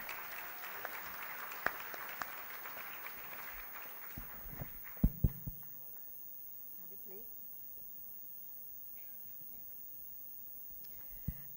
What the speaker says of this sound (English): can I request you to give a huge round of applause to the doe-eyed Rosella Stephen